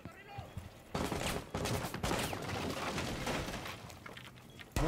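Shotgun fire in a video game comes as several loud blasts in quick succession, along with a few quieter sounds in the background.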